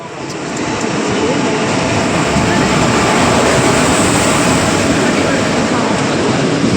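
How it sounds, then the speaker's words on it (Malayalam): A loud, steady rumble of a train arriving at a station in Kozhikode builds over the first second and then holds, close and continuous, with voices faintly underneath. "കുറച്ച് നേരം കഴിഞ്ഞപ്പോഴേക്കും ട്രെയിൻ വന്നു കേട്ടോ"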